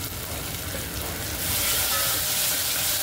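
Fenugreek seeds and spice masala with red chilli powder roasting in a pan for methi khichdi, a soft steady sizzle and crackle that grows a little louder and hissier partway through.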